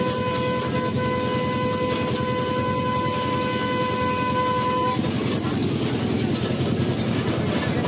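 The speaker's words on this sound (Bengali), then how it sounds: "আমাদের ট্রেন এসে গেছে।" A train pulls into a station near Digha on a foggy winter day, its long steady horn sounding loudly over the rumble of the wheels. The horn stops and the rolling noise carries on.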